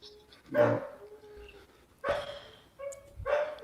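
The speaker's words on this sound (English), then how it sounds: "Dog's still in heat. I don't know if you can hear her." A female dog in heat gives a few barks and whimpering yips indoors, separated by quiet gaps, moderately close with a faint background hum.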